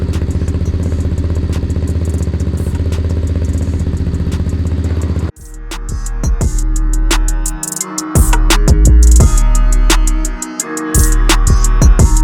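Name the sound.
Stomp pit bike engine running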